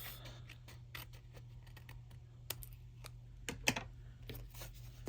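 Designer paper for a handmade card is trimmed with quiet snips and soft clicks of a trimmer, a few sparse cuts in a quiet room.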